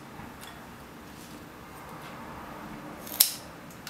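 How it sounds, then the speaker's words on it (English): A single crisp snip of scissors trimming the prickly leaf tips of an artichoke, heard once near the end against a quiet background with no talking. "we're going to start cutting the prickly parts of the leaves"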